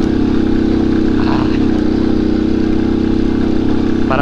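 A vehicle's engine labors at full throttle while climbing a rough gravel road in the Tarija Chaco. It gives a loud, steady, droning roar with strong low rumble that barely changes pitch as it strains.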